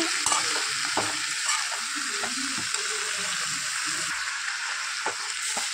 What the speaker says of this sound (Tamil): நல்லா கிண்டி விட்டுக்கோங்க